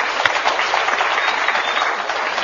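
A studio audience on a Turkish folk program applauds for guest Veysel Aksoy, a dense, steady burst of clapping heard on its own.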